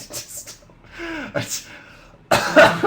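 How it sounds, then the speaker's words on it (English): A voice breaks into laughter-like sounds, then a burst of coughing near the end, close and fairly loud. "It's making me cough."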